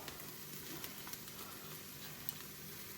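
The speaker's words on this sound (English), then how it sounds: "I'm gonna go ahead and put in our 2 garlic cloves" Garlic cloves sautéing with already softened onions in a pan for steak quesadillas, a steady soft sizzle with faint crackles and a few small pops, close and unbroken, with no talking.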